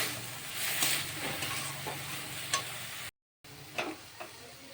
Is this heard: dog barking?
no